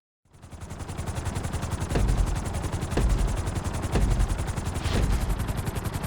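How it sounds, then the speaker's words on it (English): A helicopter in GTA V whirs with a loud, rapid rotor chop that starts abruptly and holds steady and close throughout, a dense pulsing thrum with periodic louder swells. "You've been doing so well in the plane, we're gonna put you in a helicopter."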